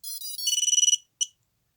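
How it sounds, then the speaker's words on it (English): The electronic beeper of a small E011 Christmas drone sounds a bright, high chirping melody of rapid tones, then one short final beep, close and clear with no talking. "you should be able to hear the beeper as well"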